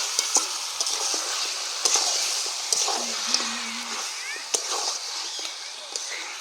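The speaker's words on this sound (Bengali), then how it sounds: "দিয়ে একটু এবারে নাড়িয়ে ছাড়িয়ে নেব।" Duck meat frying in a pan with salt and turmeric, stirred with a utensil: a steady bright sizzle with intermittent scraping clicks and knocks, close and fairly loud, with no talking.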